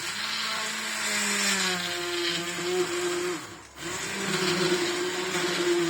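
A blender making a strawberry smoothie whirs loudly and steadily, its motor pitch wavering slightly, briefly dipping before spinning back up to full speed.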